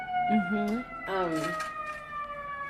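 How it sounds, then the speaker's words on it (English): An ambulance siren passing outside in Chicago wails in rising and falling sweeps for a few seconds, fairly prominent, with faint background room tone. "Ambulance, you hear it? It's super loud."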